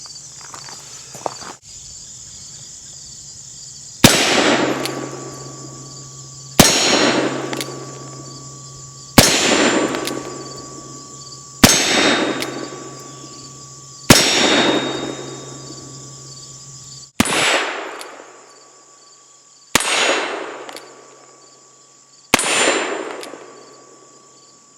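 Eight sharp, loud gunshots from an EMF 1860 Army snub nose revolver fired at about 7 yards, spaced a few seconds apart, each a hard crack with a ringing tail, alone with no talk.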